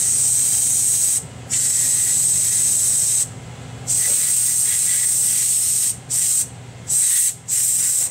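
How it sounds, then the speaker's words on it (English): Compressed air sprays onto the fan of an HP 2000 laptop during cleaning. Loud, close hissing comes in several sustained bursts separated by brief pauses, ending in a few quick short blasts. "A little bit of compressed air."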